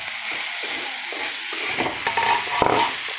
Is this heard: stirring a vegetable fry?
yes